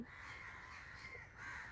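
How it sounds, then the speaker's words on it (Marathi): Crows caw in a short burst, harsh calls overlapping at a moderate distance against quiet outdoor ambience in Maharashtra Nature Park, a planted forest in Mumbai. "आता तर जास्त कावळ्यांचा आवाज आहे"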